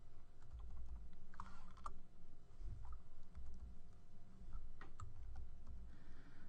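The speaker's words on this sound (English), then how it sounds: "start typing in the fields that I want to return" Rapid keystrokes on a computer keyboard come in short irregular bursts of soft clicks, heard close up over a steady low hum from the computer, with no one speaking.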